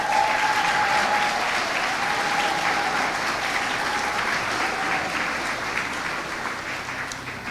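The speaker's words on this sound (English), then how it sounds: "please stand as we give you a round of applause as well" Steady, full-room applause for principals, teachers and counselors at a school district scholars reception, a dense, even wash of many hands clapping at moderate loudness, with a brief faint cheer early on and a slight fade toward the end.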